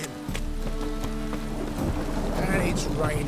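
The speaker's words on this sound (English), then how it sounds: "And it's raining again." Steady rain with rumbling thunder in The Witcher 3 video game, a continuous wet hiss beneath low booms, with a few faint tonal game sounds near the end.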